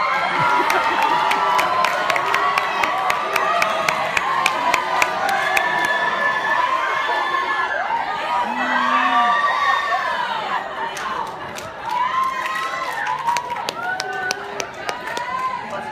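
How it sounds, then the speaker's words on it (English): A school variety show audience cheers and screams in a crowd, shouts and whoops rising over steady applause-like noise, with voices talking and calling throughout. "you get that scream thing again?"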